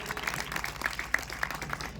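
An audience applauds a college principal at a ceremony, a short burst of fairly quiet, steady clapping from a crowd.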